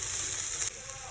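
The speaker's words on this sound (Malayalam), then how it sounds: "ബ്രൊക്കോളി ഇട്ട് കൊടുക്കുന്നു." Broccoli hitting hot oil in a pan after mustard seeds have popped, a steady close hiss that drops slightly in level partway through, no talking.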